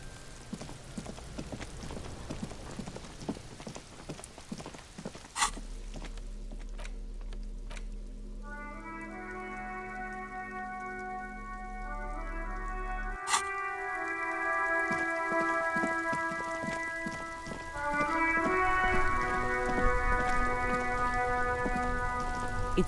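Steady rain falls in a video game scene, a soft continuous patter with scattered drips, joined midway by sustained musical tones.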